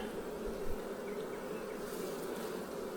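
Honey bees buzz steadily around a cluster of beehives in remote New Zealand bush, a dense continuous drone that stays loud and even from start to finish with no talking.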